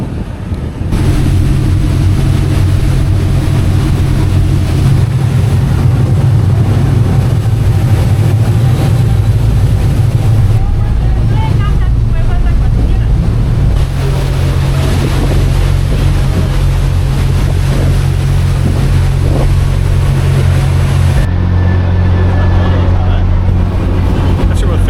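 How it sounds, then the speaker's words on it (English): Xcaret fast ferry crossing to Cozumel island, a loud steady engine drone with rushing water and wind buffeting the microphone throughout, the engine pitch shifting partway through as the boat runs on. "And here is our boat to get us across to the island,"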